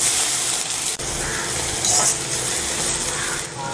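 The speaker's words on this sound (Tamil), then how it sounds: "வெங்காயத்தை நல்லா பொன்னீர் ஆகிற வரைக்கும் நல்லா வறுத்துக்கணும்." Chopped large onions frying in a pan for a Chettinad chicken curry, a steady sizzle with a brief clink partway through.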